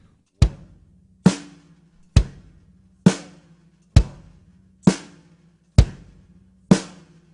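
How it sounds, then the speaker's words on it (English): Bass drum and snare drum on a Maxtone drum set alternate in a steady, even quarter-note beat, bass on 1 and 3, snare on 2 and 4, eight sharp hits in a row with nothing else playing. "add the snare drum on the 2 and 4 of the measure"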